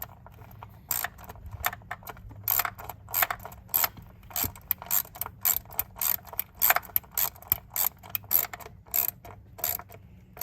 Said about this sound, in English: I'm gonna tighten it the rest of the way with the ratchet.